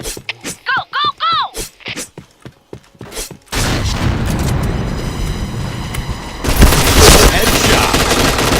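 In a shooter video game, bursts of rapid gunfire and explosive rumble follow a few seconds of excited voices. The firing is loud, dense and continuous, swelling louder near the end.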